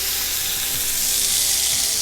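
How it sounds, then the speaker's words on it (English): A steak hisses and sizzles steadily in a very hot pan, a dense, continuous crackle of frying fat with a few faint clinks of tongs or pan underneath. "You want a nice sizzle going, okay?"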